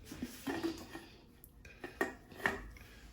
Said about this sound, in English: So I'm about to put my pressure cooker top on the stove.